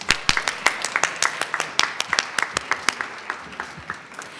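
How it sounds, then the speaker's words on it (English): A modest crowd at a council meeting claps for artists, with distinct individual claps in an uneven rhythm that start close and crisp and then thin out and soften toward the end. "Let's give all our artists a big round of applause."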